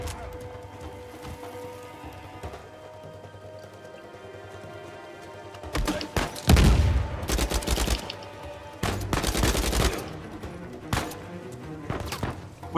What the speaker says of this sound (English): he's shooting me from this side